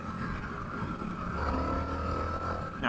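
A 2022 Indian FTR 1200 motorcycle, still not broken in, runs on a demo ride. Its engine gives a steady, close, loud drone with rushing wind noise the whole way through.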